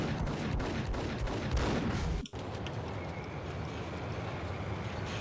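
Rapid, dense gunfire rattles in the Max Payne video game, a loud continuous burst of shots that cuts off abruptly midway, followed by a quieter crackling of scattered shots and bullet impacts.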